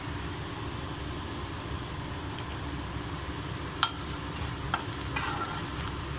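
Urad dal tempering with turmeric fries in a pan for besan curry, giving a steady close sizzle with a few sharp spoon clicks and scrapes near the end, no voices.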